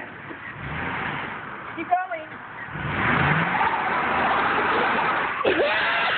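Car engine revving hard with spinning, smoking tires as the car struggles stuck in thick mud, steady loud roar under shouting voices, with a brief shout and a short squeal near the end.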